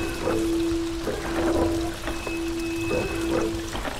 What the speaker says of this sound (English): apparently that puts water in here